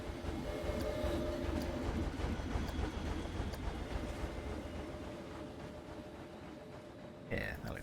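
A train rolls along a track in the Planet Coaster theme-park building game, a steady rumbling clatter with faint horn-like tones that gradually fades, then a brief clunk near the end.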